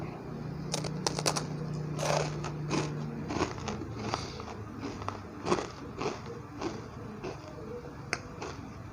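Close, sharp crunches as someone bites and chews Untu Walang, a crispy, slightly burnt, layered Indonesian traditional fried snack, with irregular brittle cracks in quick succession.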